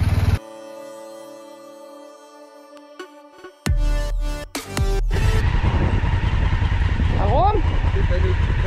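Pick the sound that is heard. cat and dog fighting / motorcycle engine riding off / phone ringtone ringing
motorcycle engine riding off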